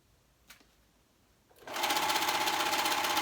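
A serger sewing machine starts up after a couple of faint clicks and runs fast and steady, a loud continuous mechanical whir close by.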